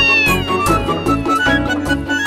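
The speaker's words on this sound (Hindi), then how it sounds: "आजा मेरी बिल्ली, दिखा दे तेरा खेल।" A cat meows loudly and close, a drawn-out, wavering, whiny call with several pitch swoops, set over a busy musical background.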